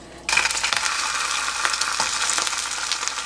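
Tofu frying in a shallow layer of oil in a frying pan, a steady dense sizzle that starts abruptly as the pan is loaded and continues loud and close, with a few small clicks and crackles throughout.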